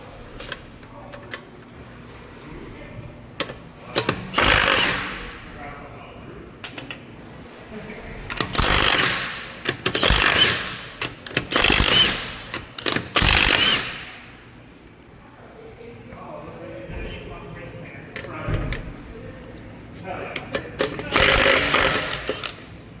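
A Milwaukee M18 Fuel mid-torque impact wrench removes 22 mm Honda lug nuts with several loud, short bursts of rattling hammering, spread apart by quieter handling sounds and pauses.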